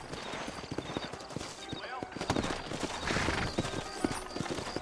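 Horse hooves clip-clop in a steady walking rhythm in the western video game Red Dead Redemption, close and distinct, with someone talking over them and a faint whinny.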